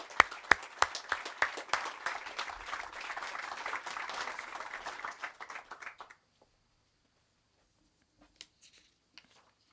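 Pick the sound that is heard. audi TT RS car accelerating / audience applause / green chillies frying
audience applause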